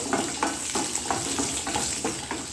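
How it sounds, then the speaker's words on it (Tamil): Seven small shallots sautéing in a pan for guava chutney, a continuous sizzle broken by regular scraping strokes of a spatula roughly every third of a second, close and without talk. "ஒரு ஏழு சின்ன வெங்காயம் சேர்த்துருக்கேன் வெங்காயம் பச்சை வாசனை போக வதங்கினா போதும்"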